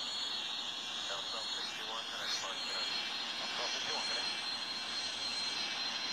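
Steady airliner engine roar from the Airline Commander flight game as the plane slows and lowers its landing gear on approach, a continuous loud drone with faint speech murmuring underneath.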